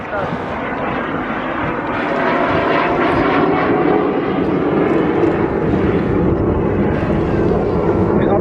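Propeller-driven mid-generation training aircraft performing gentle manoeuvres at the Eastbourne Airshow, a loud continuous engine drone that swells slightly as it passes, under a commentator's voice.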